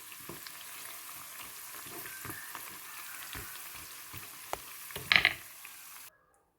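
Chana dal vadas deep frying in oil, a steady bubbling sizzle with spoon taps and a brief louder crackle near the end before it cuts off.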